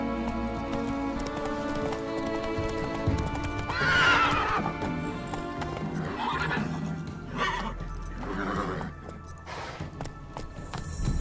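Geralt's horse Roach gallops in The Witcher 3: Wild Hunt, rapid hoofbeats with loud whinnies and snorts over a busy game soundtrack.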